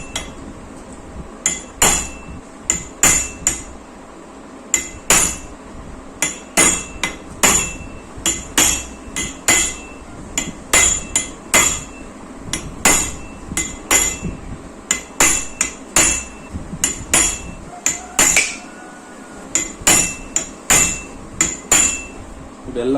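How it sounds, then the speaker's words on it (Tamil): An impact driver tightening screws on a Yamaha RX100 two-stroke motorcycle engine being rebuilt, loud and close, with repeated rapid hammering bursts in steady succession throughout, separated by brief pauses. "இப்போ இம்பேக்டில் வந்து எல்லாத்தையும் வச்சு டைட் பண்ணிக்கலாம்."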